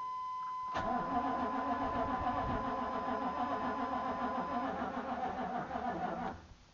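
A 1995 Chevy truck engine with glow plugs cranks and churns steadily for several seconds, loud and close, then cuts off at the end.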